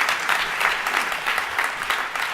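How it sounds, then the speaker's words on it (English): A large summit audience applauds in a sustained, dense round of clapping, steady and fairly loud throughout, with no voices rising above it. "everyone give yourselves a big round of applause for your involvement in this effort."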